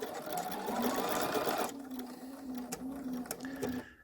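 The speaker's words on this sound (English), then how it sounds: "And then when that's done, I can actually sew this down." A Bernina sewing machine with a button sew-on foot stitches a button in place, a steady close mechanical whir that drops to a lighter hum with clicks of the needle as it slows near the end.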